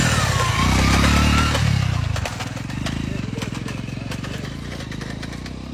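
An ordinary motorcycle rides along a rough farm track near a forest, its engine a loud, steady chugging thrum that drops to a lower, lighter rumble partway through, with speech mixed in.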